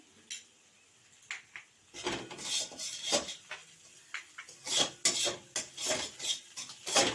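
A spoon stirs fish curry with coriander leaves in a metal pan, scraping and clinking in irregular bursts, with short quiet gaps between strokes and rasping rubs against the pan.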